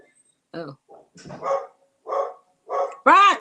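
Dog barking in a home, a series of five or six loud, close barks spaced at a fairly steady beat with short pauses between, the last bark the strongest.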